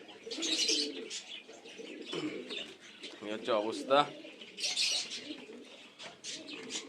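Pigeons cooing in their loft, soft repeated throaty coos with a few chirps, close by, while a person talks briefly over them.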